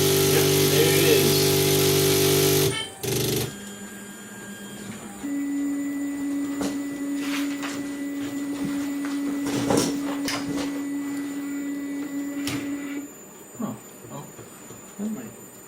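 A 3D printer runs a print, its motors giving a steady mechanical whir with a sustained tone and occasional clicks and knocks, fairly close, after a louder burst at the start and with people talking at times.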